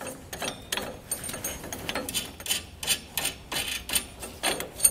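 Rapid ratcheting clicks come in quick bursts and pauses as a ratchet wrench snugs down flange nuts on an Air Lift LoadLifter 5000 rear air spring bracket of a 2020 Ford F-250, close up with no talking.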